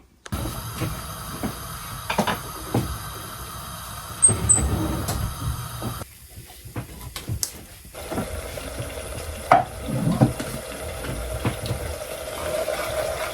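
Lamb mince cooks in a pan as a base for pasta, giving a steady close-up sizzle and frying hiss with occasional stirring scrapes and clatters, no talk over it.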